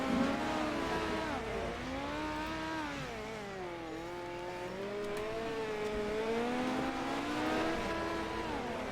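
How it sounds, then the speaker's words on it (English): Dirt-track race cars circle the indoor Chili Bowl speedway during a DIRT Series Indoor Nationals championship night, several engines droning and rising and falling in pitch as they run laps together, steady and moderately distant. "Your 5 cars out there on the speedway."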